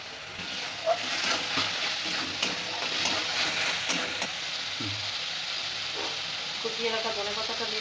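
Ginger, garlic and chili powder sauté in a pan with a continuous close sizzle and hiss, broken by soft clicks and scrapes of stirring throughout.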